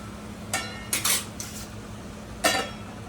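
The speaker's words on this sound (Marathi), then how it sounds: "झाकण ठेवायचं" A lid set down on a pan of cooking okra, giving a few sharp metallic clinks and clatters, the loudest near the end, close by in a quiet kitchen with no talking.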